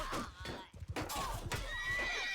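A horse in a video game whinnies loudly in a rising, shaky call over soft clip-clopping hooves, close and clear.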